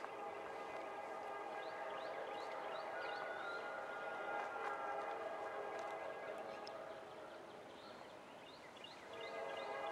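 A Norfolk Southern freight train rolls past in Bessemer, Alabama, with a steady, fairly distant rumble and squealing wheel tones drifting in and out, easing slightly near the end.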